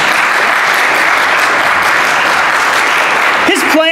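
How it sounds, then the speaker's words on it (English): A church congregation claps during a Sunday sermon, a dense, loud wash of applause holding steady throughout, with a brief voice or tonal sound breaking in at the very end. "Yeah, not so much clapping."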